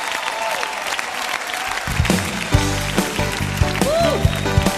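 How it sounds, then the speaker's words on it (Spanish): A church congregation claps during a worship service, steady applause under music with rhythmic beats and sustained tones, a voice rising over it at times. "levante ese aplauso más fuerte al Señor"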